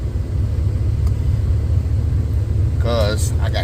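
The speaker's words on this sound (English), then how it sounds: "I'm literally driving through this snow." Two-door Chevrolet Tahoe with an LS swap pushing through deep snow in four-wheel drive during a snowstorm, a steady low engine rumble throughout, close and continuous, with a brief voice near the end.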